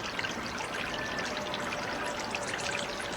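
A fountain in Palm Springs at sunset splashes and patters in a continuous, even wash of falling water, steady and fairly close throughout.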